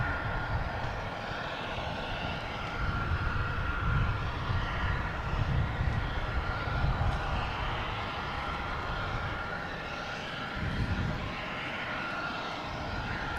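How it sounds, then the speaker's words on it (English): A JetBlue Airbus A220 taking off at Boston Logan Airport, its engines producing a steady, broad roar that holds fairly level throughout, heard from outside at a moderate distance with no talking. "we got JetBlue taking off, heading to Reagan, an A220, flight 1855."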